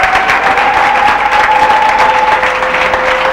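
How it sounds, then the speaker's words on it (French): An audience at a church summer conference applauds in a dense, sustained burst of clapping, loud and continuous, with a steady tone ringing underneath. "Acclame-le très bien."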